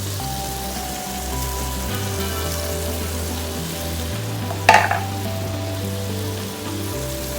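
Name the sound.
squid and prawns frying in a pan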